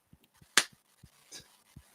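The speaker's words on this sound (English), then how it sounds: "You're just snapping." Fingers snapping a few times up close, sharp dry clicks spaced irregularly, one loud snap followed by softer ones amid faint taps in a quiet room.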